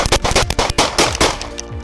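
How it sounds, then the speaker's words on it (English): Gunfire at night during a police confrontation with an armed man: several loud, close shots in quick succession, tapering off after about a second and a half. "Gunfire breaks the night"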